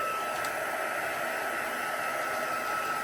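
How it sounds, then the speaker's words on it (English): A heat gun drying ink on a card gives a steady, loud blowing hiss of hot air without a break from start to finish, held close. "I'm just going to give that a little dry with my heat gun"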